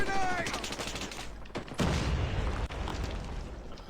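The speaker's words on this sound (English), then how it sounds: "Watch out! Grenade!" Gunfire sound effect with a grenade-style blast, a burst of rapid shots followed by a loud boom roughly midway, then rumbling shots continuing; a voice calls out over the opening.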